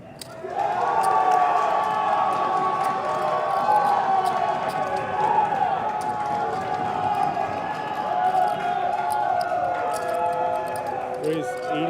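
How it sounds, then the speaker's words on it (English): A large poker tournament crowd at the WSOP main event makes a steady murmur of chatter and banter with faint cheering, sitting under nearby talk for the full stretch. "Hearing lots of banter and cheering in the background."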